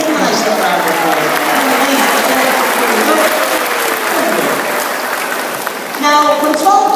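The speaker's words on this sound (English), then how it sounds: "Give him a nice little round of applause." Loud, sustained crowd applause fills a sealife display in Liverpool, cheering a 12-month-old sea lion, with a voice rising over the clapping near the end.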